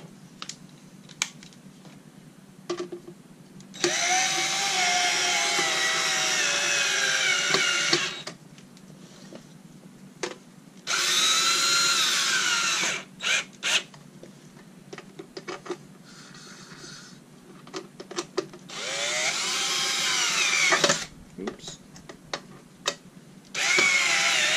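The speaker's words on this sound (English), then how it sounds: "all you do is bolt it back together. Three bolts." Power drill driving three bolts into a Rainbow E2 vacuum motor, in three loud whirring bursts with quiet handling clatter between them.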